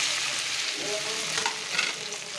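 Soaked flattened rice frying in ghee with cashews, almonds and raisins, a dense, steady close sizzle with light stirring underneath.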